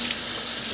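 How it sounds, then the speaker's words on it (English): A running cold-water tap pours steadily, a bright hissing stream of water close by, constant and uninterrupted. "Cold water rinse off."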